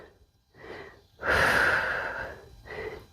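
Audible breathing during a yoga-inspired calisthenics workout: a short breath, then a long, strong inhale lasting about a second, followed by a softer breath, close and clear with no talking.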